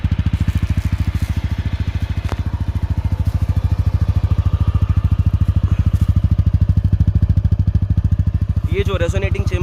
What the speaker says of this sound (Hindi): तो जैसे मैंने बाइक शुरू की है अभी इसका एग्जॉस्ट नोट भी सुन ही लेते हैं।